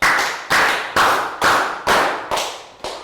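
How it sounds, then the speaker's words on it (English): Five sharp hand claps ring out alone, close and loud, evenly spaced about half a second apart with a short echo trailing each one, during a classroom movement game for young pupils. "5 claps."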